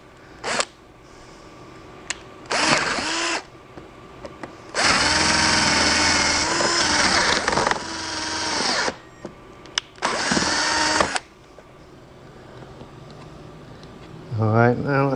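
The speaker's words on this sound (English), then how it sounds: "It's a pretty big bit for this cordless drill." A cordless drill with a large bit whirring in several bursts during a door replacement, one long strained run in the middle, with brief pauses between; loud and close.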